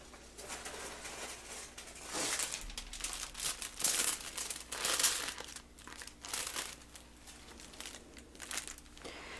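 Hair dye foils crinkle close up during a soft-spoken hair styling session, in short, crisp, irregular bursts of rustling that swell and fade across the stretch, with no talk.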